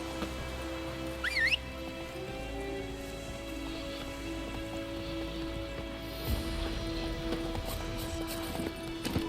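Roach the horse's hooves in The Witcher 3, a steady clip-clop of walking hooves over a continuous game ambience with faint background music, moderately close.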